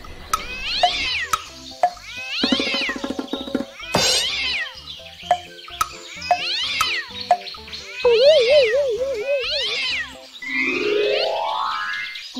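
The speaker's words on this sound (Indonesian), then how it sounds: "Kucing atau cat?" Repeated cat meows in a cartoon-style animal sounds sequence for kids, several distinct mews spread across the clip, mixed with playful boing-like effects and a rising whistle slide near the end.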